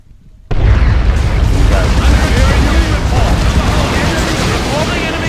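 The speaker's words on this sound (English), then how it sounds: "Throwing grenade." A grenade explodes in the Dawn of War 2 strategy game, a sudden loud blast after a brief quiet start that rolls into sustained rumbling battle noise for several seconds.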